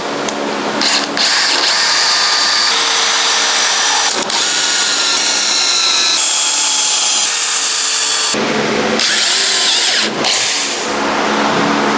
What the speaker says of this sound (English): I'm going to use my blue Craig screws. I'm going to countersink these in